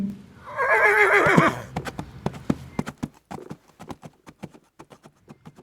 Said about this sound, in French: Allez, cheval, c'est parti!